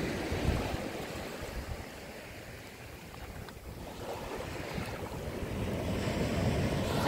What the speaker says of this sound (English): I hope you're enjoying the sound of the water